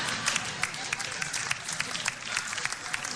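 Dense, steady applause from a live podcast show audience, many hands clapping at once with a crackling texture that holds at an even level throughout.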